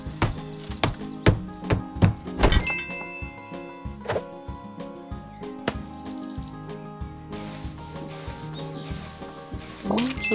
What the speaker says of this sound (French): Nettoyez le sol avec la serpillière puis réparer la table avec du marteau